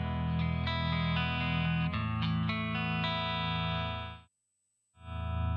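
Electric guitar through the Bias Effects app via an XSonic XTone Pro interface, distorted chorus-laden notes and chords ringing out, then a sudden brief cut to silence before the tone resumes.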